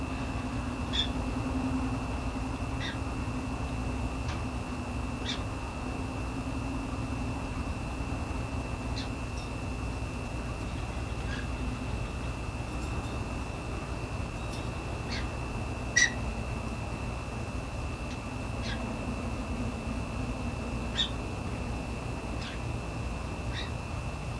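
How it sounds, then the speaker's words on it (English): A pet bird chirps indoors with short, sharp calls scattered irregularly over a steady hum and low background drone, moderately faint, with one louder chirp. "My bird really likes that, whatever this is. He's chiming in a lot with that, I can hear."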